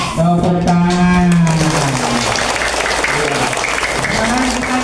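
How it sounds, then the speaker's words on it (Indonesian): Children clap their hands together in a classroom, a busy wash of clapping that starts under a voice drawing out a long sung or called word, then carries on alone. "Tepuk tangan."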